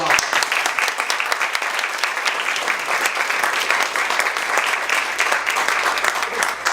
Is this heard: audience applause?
yes